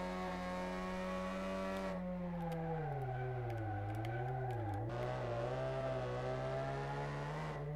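A race car in Car Mechanic 2018 drones with a steady engine tone that dips and rises as the revs shift through corners, with a continuous even hum and no talk.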